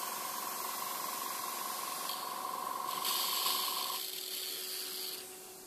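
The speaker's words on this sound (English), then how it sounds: "put a little bit more terps in the cup, spray that out." Continuous hissing spray from a scale-model airbrush spraying out turpentine thinner to clean it, with a steady tone underneath; the hiss brightens midway, then tapers off near the end.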